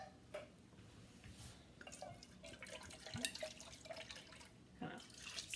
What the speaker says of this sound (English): I just kind of pour a little bit in my tomato can so I can kind of rinse out the inside of my tomato cans